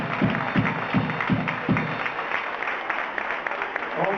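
Applause from an audience greeting a band's co-founder and first drummer at a rock history event, a dense steady wash of clapping with a few sharper near claps early on, lasting throughout.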